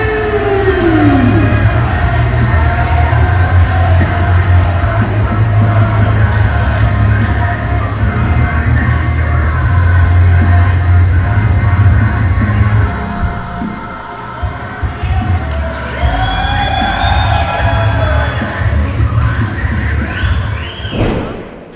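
Wrestling event crowd roars and yells loudly and continuously, dense cheering filling the arena with a low rumble and occasional higher shouts, fading slightly near the end.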